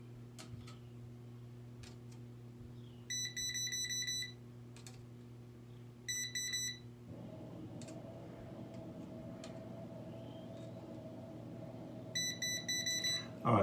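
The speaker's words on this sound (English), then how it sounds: "I'm going to get my voltage tester out. I want to test each line to find out which one's going to be my hot one." A voltage tester gives short bursts of rapid electronic beeps while outlet wires are checked. The beeping comes in three separate spells over a low steady hum with faint ticks, close, with no talking.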